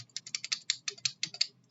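A Realforce keyboard gives a quick, uneven burst of about a dozen crisp key clacks, close and fairly quiet, with no voices.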